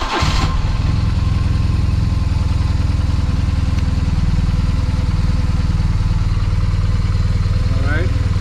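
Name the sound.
BMW R1200GS motorcycle engine starting and idling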